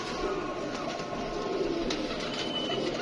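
Pigeons held by a pigeon seller coo softly amid a steady background rumble and murmur, their low throaty calls repeating under the noise.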